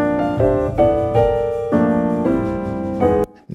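Piano captured by two close microphones blended with a room microphone, playing a run of sustained chords that change every half second or so, full and steady without voices, then cutting off abruptly near the end.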